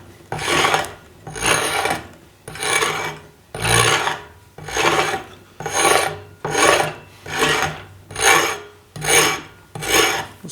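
Lathe tool used as a scraper against a spinning wooden tool handle on a wood lathe, producing about ten regular rasping strokes, loud and close, with no talking.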